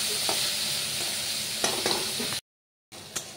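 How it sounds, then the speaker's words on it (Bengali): Snake gourd frying in a pan and being stirred, a close, steady sizzle with occasional spatula scrapes, briefly cut to silence before the sizzling resumes; no one speaks. "এটা ভেজে নেবো ভালো করে, নেড়ে চেড়ে দিলাম ভালো করে।"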